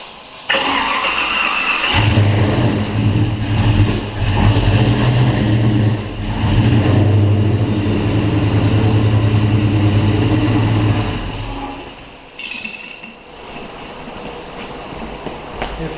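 An L83 Gen V V8 swapped into a 4x4 Pontiac Safari wagon cranks, catches and fires into a loud, rumbling idle close by for several seconds, then cuts off and goes quiet.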